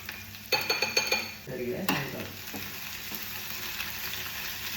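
Spoon stirring tomato buttermilk curry in a pot, a series of close scraping strokes in the first two seconds, then a quieter steady bubbling simmer.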